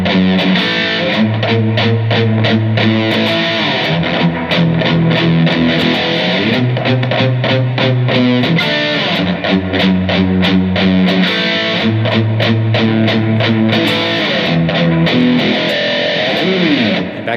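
Distorted electric guitar plays the second part of a riff, a steady, loud chugging pattern of chords and palm-muted notes running throughout with no talking.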